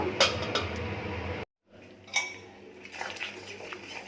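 A lid set onto a cooking pot of fish curry after water has been added to the fried spices: a short metallic clatter and clink, then quieter scrapes and light knocks.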